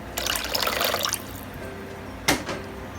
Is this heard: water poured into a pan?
yes